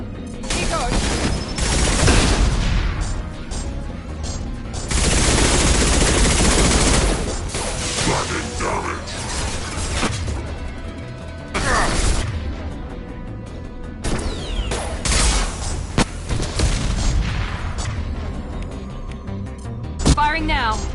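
Heavy bursts of weapon fire in a PS4 shooter, with long loud volleys separated by quieter stretches and sharp single impacts, while people talk over much of the action.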